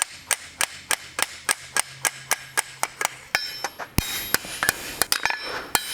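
Sharp, evenly spaced hammer strikes ring out as a metal bookend is textured at the forge, about two blows per second, close and loud, turning denser and brighter in the final seconds.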